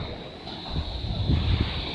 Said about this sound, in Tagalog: Grabe makasarlas ang dagat dito.